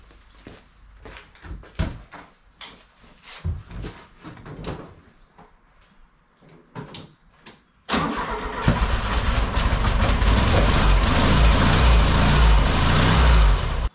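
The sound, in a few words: 1967 VW 1500cc engine starting and idling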